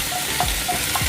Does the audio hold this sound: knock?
no